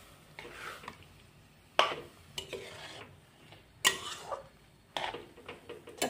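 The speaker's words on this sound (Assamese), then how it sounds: "এতিয়া মই গ্ৰেট কৰি থোৱা গাজৰখিনি দি দিলোঁ। এতিয়া গাখীৰে আৰু গাজৰে একেলগত মিক্স কৰি দিম।" Grated carrot being stirred into boiling milk in a pot for gajar halwa gives soft scraping and clinking strokes, with a few sharper utensil knocks spaced across a few seconds, fairly quiet and without talk.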